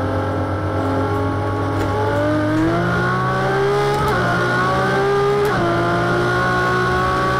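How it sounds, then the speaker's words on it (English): Race cars in a sim racing video game coming into the carousel, a steady loud engine drone whose pitch climbs and shifts as several cars close in, with no one talking. "Hear other cars coming into the carousel"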